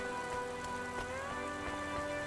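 Steady rain pattering on surfaces in the city of Cloudpunk, a soft continuous patter with scattered drip sounds and faint tonal city hum underneath.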